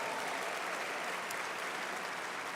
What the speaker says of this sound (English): Give all those new people a round of applause right now for coming aboard.